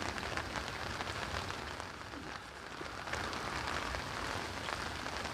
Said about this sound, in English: It's raining, I've had to put umbrellas up